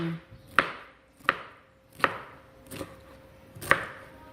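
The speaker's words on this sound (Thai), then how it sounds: "หั่นเป็นแว่นๆแบบนี้นะคะสับปะรด" A knife slices firm pineapple into rounds on a board, five distinct cuts at an unhurried, even pace, close and clear.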